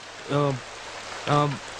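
Rain falls in a steady, soft hiss throughout, with two short harmonic calls, like a voice or animal, rising briefly above it.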